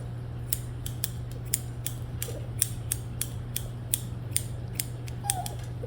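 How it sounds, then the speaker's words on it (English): Small blunt-tipped scissors trimming a reactive dog's fur during grooming, a quick series of sharp metallic snips at an irregular rhythm, close and crisp over a low steady hum. "I'm going to try to hold her head and use the smaller scissors that have the blunt tip."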